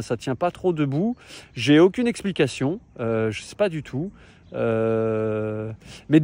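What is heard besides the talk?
No distinct noise like a dog, phone or traffic.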